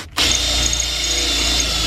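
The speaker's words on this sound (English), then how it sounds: "So once we drill this last one right here, we're gonna bolt everything in" A power drill bores a hole through a car floor while an EJ1 race car is being fitted out, starting abruptly into a steady, loud, high whine that holds without pause.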